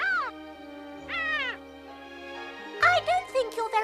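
A cartoon seagull gives a series of squawking cries, a couple of long rising-and-falling calls and then a quick run of shorter squawks, loud and close, over a soft background tone.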